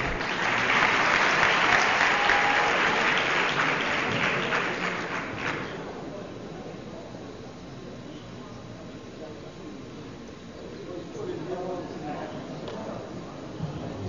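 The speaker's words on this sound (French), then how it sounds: "Je pense que ça s'applaudit." Loud audience applause at a launch ceremony in Djibouti fills the first half, dense and sustained, then fades out into a quieter room with light murmuring.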